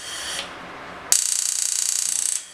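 A gas stove igniter clicks in a rapid, steady run of sharp ticks for just over a second, close and fairly loud, with no one talking.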